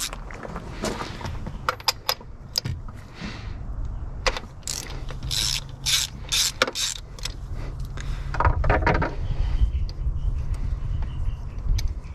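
Ratchet clicking in bursts while spark plugs are loosened from a Porsche 944 engine, with irregular mechanical clicks and metallic clatter nearby at a moderate level and no talking.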